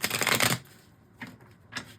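Tarot cards shuffled during a reading, one loud riffling burst followed by two shorter, softer shuffles, close and alone with no talking.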